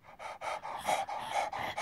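A person imitates a panting dog with quick, rhythmic breathy huffs repeated steadily and close up, with no other talk heard.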